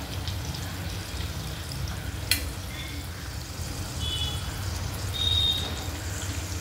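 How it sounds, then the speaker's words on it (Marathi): Garlic and green chili tempering frying in hot oil for a sprouted matki bhaji, a steady close sizzle with a brief sharp crackle partway through and no voices. "लसूण आणि मिरचीची फोडणी खूप टेस्टी होते"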